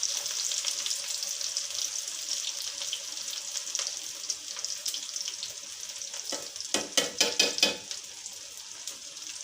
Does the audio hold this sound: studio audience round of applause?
no